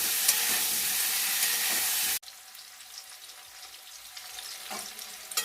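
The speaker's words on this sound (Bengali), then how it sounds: "ফুলকপি আলু লাল লাল করে ভাজা হয়ে গেছে" Cauliflower and potatoes fry in a pan with a loud, dense sizzle that cuts off abruptly after about two seconds, leaving a quieter, softer hiss and faint crackling for the rest.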